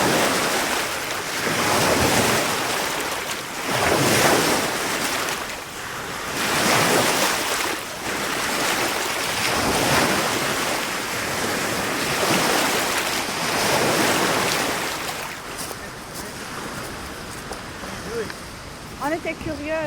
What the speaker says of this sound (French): les vagues du samedi soir ont une texture particulièrement veloutée.